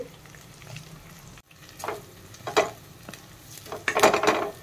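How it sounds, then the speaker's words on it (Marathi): Ground coconut and peanut paste being sautéed in oil for a Solapuri curry: a low frying sizzle broken by several sharp scraping and clattering stirs of a spoon against the pan, close and fairly quiet. "आपण जे वाटण केलं होतं खोबरं दाण्याचा कूट, हे सुद्धा परतून घ्यायचंय तेलामध्ये।"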